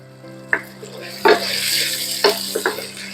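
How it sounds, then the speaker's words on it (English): Bay leaves, chives and spices saute with chicken thighs in a pan, a steady close sizzle broken by a few sharp scrapes and knocks of a stirring utensil, with no one speaking. "Let everything saute together for a few minutes."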